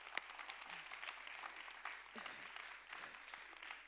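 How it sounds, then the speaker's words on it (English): A TEDx audience at Wageningen University breaks into sustained applause, a dense, even patter of many hands that sounds somewhat distant and soft throughout. "round of applause"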